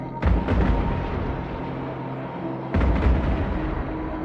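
Ship weapons fire in the space game EVE Online as two heavy booming volleys, one at the start and another near three seconds, each followed by a rumbling decay, with no talk.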